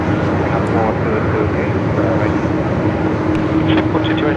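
A Velocity aircraft arriving from Canberra comes in to land at Melbourne Airport in strong wind, a steady, dense jet rumble close and loud, with blustery wind noise mixed in throughout.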